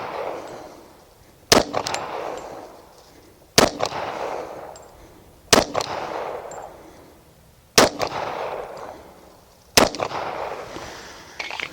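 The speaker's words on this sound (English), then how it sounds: "going to put this whole magazine on that target with the laser." Five sharp, loud gunshots from an FN FNS40 .40 S&W pistol spaced about two seconds apart, each followed by a rolling outdoor echo that decays before the next shot.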